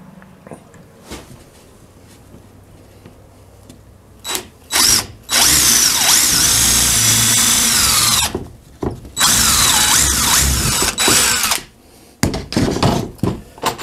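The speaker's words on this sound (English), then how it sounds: "And I'll put some of these mega screws in it." Power drill driving large screws into lightweight shelving for a tool storage area, with several loud whirring bursts of a few seconds each separated by brief pauses and some thunks of handling.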